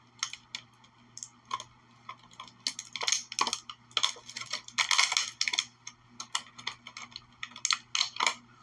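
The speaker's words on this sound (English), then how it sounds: "Let's take her accessories out of the packaging." Plastic accessories for a Marvel Legends MJ action figure being pulled from their packaging, a close run of crinkling rustles and sharp plastic clicks in irregular bursts, with no talking.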